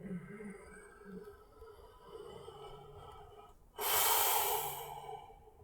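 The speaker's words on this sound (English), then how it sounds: "Deep breath in." A deep breath drawn in during a yoga headstand session: soft background hum and faint breathing, then a sudden loud, close rushing inhale lasting about two seconds before it eases off.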